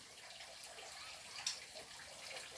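Water spritzed from a spray bottle onto moss around a Homalomen cutting, a soft, faint hiss with one sharper puff partway through.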